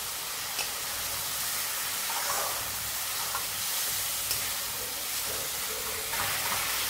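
Spices and tomato frying in a pan for a Bengali rui or katla fish curry give a steady, fairly faint hiss and sizzle with small crackles, with no talk.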